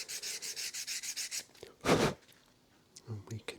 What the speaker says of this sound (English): It's got some fairly fine sandpaper there just to take any burrs off that edge we might have put in.